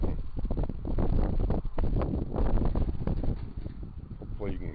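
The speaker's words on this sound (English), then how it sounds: "It's kind of windy out here today." Outdoor wind buffets the microphone in loud, continuous low rumbling gusts, heavy throughout and mixed with a nearby voice.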